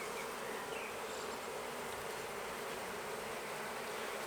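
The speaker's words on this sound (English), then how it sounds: "all the flying bees are going to come back to this colony" Honey bees buzz densely around hive frames during queen-rearing work, a constant loud hum filling the whole stretch without pause or voices.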